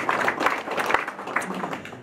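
Audience applause for Mrs. Pence at a Friends of Indiana gathering in Berlin, a dense wash of many hands clapping filling a room for about two seconds, fairly loud and steady, with faint voices mixed in.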